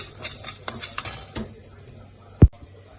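Curry leaves and asafoetida are stirred in a pan for masala dosa: a few quick scraping stirs with a faint sizzle, then one sharp, loud clink of a utensil.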